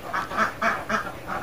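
Ducks on a duck farm quack loudly and close by, a rapid run of about five nasal quacks in quick rhythm.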